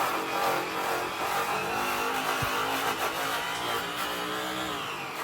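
A power buffer runs steadily against an acid-washed aluminum wheel with polishing rouge, working around the valve stem; a continuous whirring drone with slightly wavering pitch as the trigger is feathered, close and loud, with one brief low thump midway.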